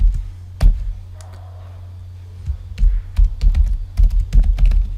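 Code typed on a computer keyboard, with loud, close key clicks arriving in short irregular bursts separated by pauses, over a low steady hum.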